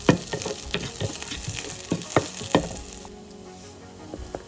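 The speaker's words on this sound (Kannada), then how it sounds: "ಚಿಕ್ಕದಾಗಿ ಕಟ್ ಮಾಡಿರೋ ಶುಂಠಿ ಮತ್ತು ಬೆಳ್ಳುಳ್ಳಿನ ಹಾಕ್ತಾಯಿದ್ದೀನಿ. ಇದು ಹಾಕಿ ಸ್ವಲ್ಪ ಹೊತ್ತು ಚೆನ್ನಾಗಿ ಹುರ್ಕೋಬೇಕು." Chopped ginger and garlic frying with fenugreek seeds in a pot, a steady close sizzle broken by scraping stirs, settling into a softer hiss.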